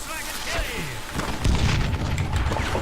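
A dynamite blast in Call of Juarez: Gunslinger, a deep booming explosion erupting midway and rumbling on, mixed with gunfire effects and talk.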